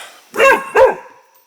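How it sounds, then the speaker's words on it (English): A dog gives two loud, close barks in quick succession, each a short throaty burst, with quiet before and after. "she just barked."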